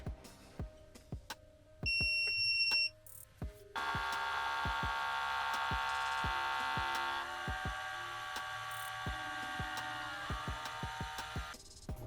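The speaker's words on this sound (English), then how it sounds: "hold the button for 2 seconds until it beeps, and then wait for it to extract" An Outin Nano portable espresso machine gives a short electronic beep, then a loud, steady mechanical pumping buzz as it extracts, running on for several seconds amid scattered clicks and taps.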